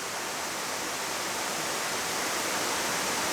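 River water flows in a steady, even broadband rush at a fishing spot, continuous and moderately loud with no breaks or voices.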